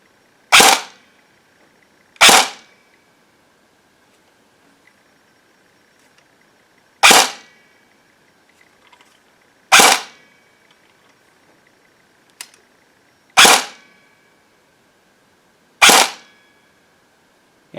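A CYMA M4 CQB-R airsoft rifle fires BBs in single shots, seven sharp snapping cracks spaced a few seconds apart with quiet pauses between, loud and close.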